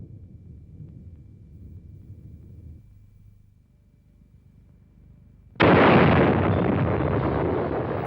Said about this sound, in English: The explosion was the equivalent of more than 50 million tons of TNT